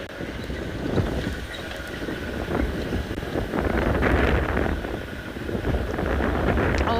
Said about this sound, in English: it's definitely a dreary, windy day in Djuma